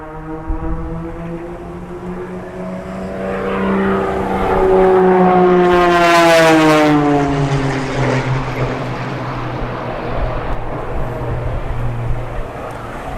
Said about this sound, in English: We have an air show going on right now.